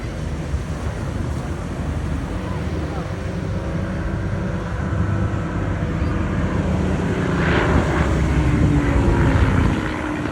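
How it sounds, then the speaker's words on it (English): A Hawker Hurricane Mark 2C propeller fighter flying at a seaside air festival, a steady broad engine drone with wind and surf-like rush that swells slightly toward the end, heard from the ground. "The Hurricane today is a Hurricane Mark 2C, Lima Foxtrot 363, flown by Flight Lieutenant Giles Croft."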